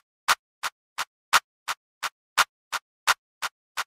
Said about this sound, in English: Then we have this weird clap loop, which pans from right to left.